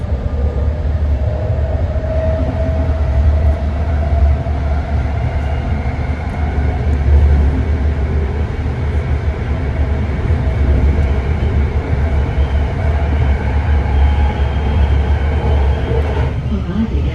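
A BART train heading toward San Francisco airport gives a loud, steady interior rumble and rolling drone throughout, with faint squeals and rattles over the constant low roar and no pauses.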